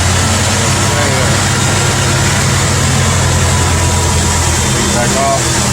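A Ford engine with a repaired EGR fault running at a fairly high idle: a loud, steady low hum with a constant tonal drone, close to the microphone, unchanging across the stretch with faint background sounds.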